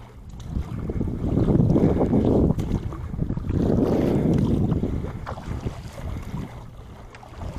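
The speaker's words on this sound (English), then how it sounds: "now I have waves coming at me" Waves slap and wash against a small boat in two broad surges, close and loud, with wind buffeting the microphone and no speech.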